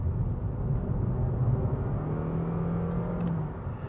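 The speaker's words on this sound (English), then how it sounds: "you get an engine that starts roaring into life and actually ends up screaming into life as the revs go higher and higher" A 2022 Honda Jazz hybrid with an eCVT transmission accelerates hard, its engine revving in a loud, steady, droning rumble with no talk over it.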